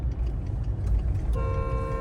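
A car horn sounds once partway through, a steady honk over the low rumble of a moving car's engine and road noise, heard from inside during a driving lesson.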